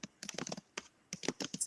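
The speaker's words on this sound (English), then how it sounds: "I can hear the typing." Computer keyboard typing in bursts of quick, crisp key clicks with short pauses between, close and clear.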